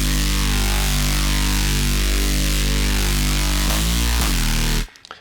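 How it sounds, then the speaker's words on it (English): A distorted saw wave synth patch in Vital, set with the inharmonic knob and a touch of pitch bend for a drum and bass Reese bass, growls as a loud, buzzing sustained tone with shifting pitch, then cuts off abruptly near the end. "So basically this is a saw wave that I've added the inharmonic knob and a little bit of bend, and it sounds like this"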